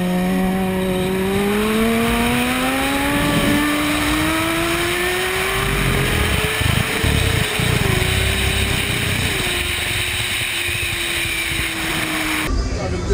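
Motorcycle engines rev and accelerate loudly at a gathering in Martinique, one rising whine climbing steadily in pitch over a roaring, rumbling background of other bikes. Talk is mixed in beneath the engine noise.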